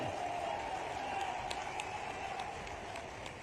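Crowd clapping at a political rally for a chief minister's announcements, a steady distant roar of many hands blending into a continuous wash with a few sharper claps poking through.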